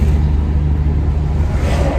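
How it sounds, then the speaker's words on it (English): A truck drives past on a road, heard as a steady loud engine rumble with a rising whoosh toward the end and no talk over it. "Another truck."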